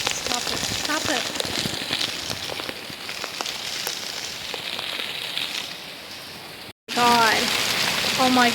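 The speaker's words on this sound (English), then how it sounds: "Look at the rain. I'm only doing this for you guys. Look at this. It is raining like crazy." Heavy rain from Hurricane Debby pours down hard and steadily, close and loud, with a brief cut near the end and a person exclaiming over the downpour.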